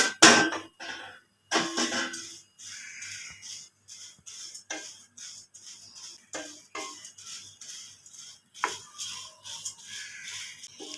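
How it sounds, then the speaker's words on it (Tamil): Puffed paddy rice is dry-roasted in a pan, giving close, irregular scraping and rattling bursts as the grains are stirred, with quiet gaps between. "முதல்ல நெற்பொரியை போட்டு லைட்டாக வறுத்துக்கலாம்."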